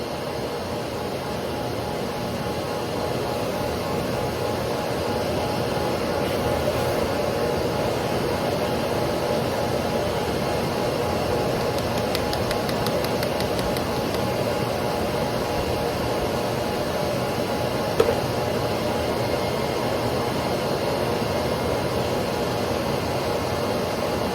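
A bucket dust collector at a woodworking router station runs as a steady, loud, unbroken suction roar throughout, with one brief faint tick near the end.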